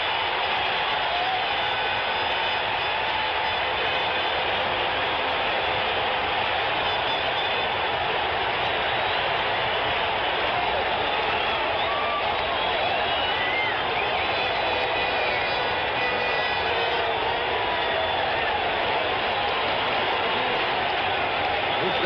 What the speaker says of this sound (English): And the crowd on its feet roaring here in the Oakland Coliseum.